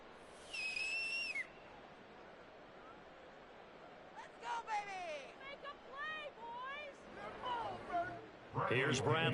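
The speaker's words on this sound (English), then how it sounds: "The whistles blow with 3 seconds remaining." Referee whistles in a Madden football video game sound as a sharp whistle blast at the start, followed by chirpy whistled tones and a final burst, over a murmuring crowd backdrop.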